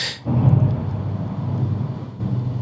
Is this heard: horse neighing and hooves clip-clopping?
no